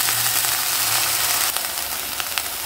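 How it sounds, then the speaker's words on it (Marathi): Freshly washed chickpea greens hit hot oil tempering with a loud, broad sizzle and crackle that holds steady, then settles slightly with a few sharp pops. "आता ही धुतलेली भाजी आपण फोडणीमध्ये घालून घ्यायची आहे।"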